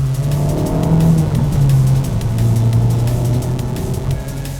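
A Honda Civic Type R with modifications drones steadily and loudly as it drives on a road, pitch shifting with gear and speed changes, with road and wind noise throughout.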